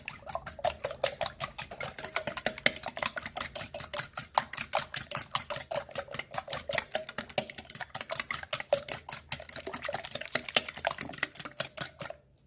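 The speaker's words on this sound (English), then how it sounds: "we're gonna just lightly whisk these up" Eggs being lightly whisked in a bowl for a Dutch baby pancake, a rapid steady clatter of whisk strokes against the bowl, close and continuous with no talking.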